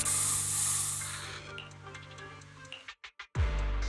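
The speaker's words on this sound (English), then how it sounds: "have a taste of this special bamboo spray!" A special bamboo spray is sprayed in Zenless Zone Zero, giving a loud, steady hiss that carries for over a second, then fades into softer game ambience and breaks off in abrupt dropouts.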